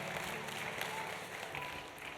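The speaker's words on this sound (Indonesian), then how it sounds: "Boleh kasih tepuk tangan buat Tuhan Yesus." A church congregation gives a soft round of applause during a sermon, the clapping faint and distant as a continuous even patter.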